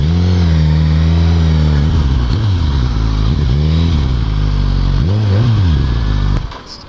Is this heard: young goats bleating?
no